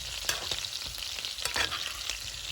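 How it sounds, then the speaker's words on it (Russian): Baby potatoes frying in ghee in a pan, a steady close sizzle and crackle with a few sharp pops and stirring scrapes. "Пока жарится картошка, сильно далеко от нее не отхожу."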